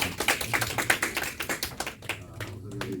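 A small group claps in welcome, a brief patter of uneven hand claps lasting about three seconds, fairly close and moderately soft.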